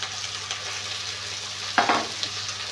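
Tomatoes frying in a pan give a steady, close sizzle, with a brief louder scrape or clatter near the end as they are tipped in or stirred, and no talk.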